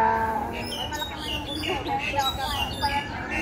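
Short squawking calls of a black bird ring out in Kowloon Park, Hong Kong, over nearby chatter and background voices, irregular and moderately close.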